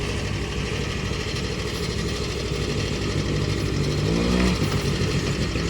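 A scooter engine runs under light throttle during riding practice in Madurai. It hums steadily and closely, with a slight swell in revs toward the end.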